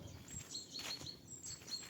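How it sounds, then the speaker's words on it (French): Small birds chirping in a forest, faint high thin tweets repeating several times at a distance over quiet background rustle. "T'as plein d'oiseaux par endroit."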